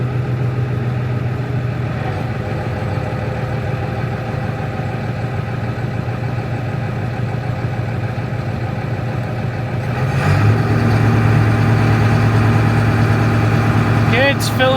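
Tractor engine chugging steadily at close range, then swelling to a heavier, louder drone about two-thirds through as its PTO-driven pump engages, with a faint squeal at the very end.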